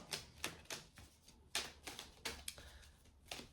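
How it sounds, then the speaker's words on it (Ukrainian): Soft rapid riffles and flicks of tarot cards being shuffled, coming in quick bursts with brief pauses, quiet and close. "Поки я тасую карти"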